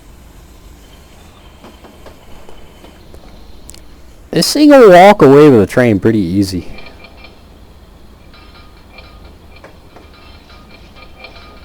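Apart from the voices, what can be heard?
clickety-clack of PRR Baldwin Centipede locomotive wheels, Train Simulator Classic video game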